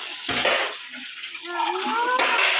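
Running tap water splashing over dishes as a child washes them in a home kitchen, a continuous near flow with clinks and splashes, with a voice talking briefly.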